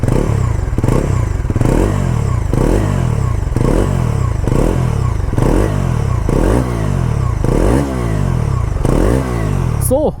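A Bajaj NS400 motorcycle with a 350cc engine is revved repeatedly through its exhausts, each loud, close blip rising and falling in a regular rhythm about once a second.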